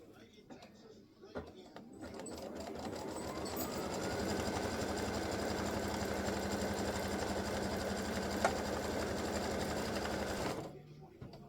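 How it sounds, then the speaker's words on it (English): A machine-embroidery unit runs a tack-down stitch on fabric for an in-the-hoop triple-stand display, its needle hammering in a fast steady rhythm that holds loud and close for about nine seconds before stopping. "So color stop number 4 is going to tack this fabric down."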